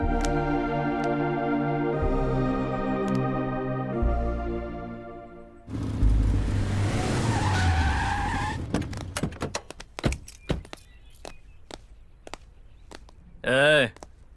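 A car skids to a stop with a harsh tire screech, followed by scattered thumps and clatter; music plays before it and a short loud burst comes near the end.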